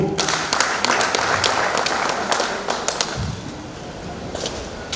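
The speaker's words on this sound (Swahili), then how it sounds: "Mumpige makofi." Audience clapping at a club gathering, a dense steady patter of many hands that thins slightly toward the end, with a brief low thump partway through.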